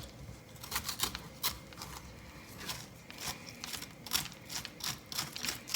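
A knife scrapes seeds out of a halved spaghetti squash, giving repeated quick scratchy strokes in an irregular rhythm, close and fairly clear with no talking.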